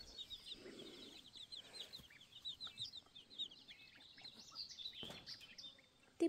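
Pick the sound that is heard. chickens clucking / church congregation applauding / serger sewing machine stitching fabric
chickens clucking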